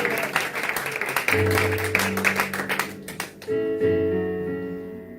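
A congregation at a French-language church service applauds, a burst of close, dense clapping that thins out as sustained musical tones rise beneath it.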